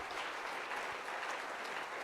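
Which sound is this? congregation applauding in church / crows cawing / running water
congregation applauding in church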